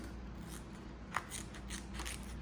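Scissors snip through a REUZIP plastic extension strip in a few soft, quiet cuts, one sharper click standing out amid faint room hiss.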